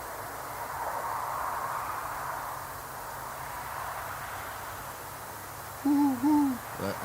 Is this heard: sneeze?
no